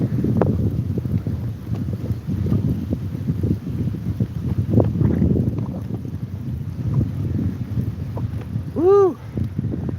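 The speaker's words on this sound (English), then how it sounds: "Dang, that's a strong wind." Strong headwind buffets the microphone while cycling near Chesapeake, Virginia, producing loud, continuous low rumbling gusts, with a brief voice sound near the end.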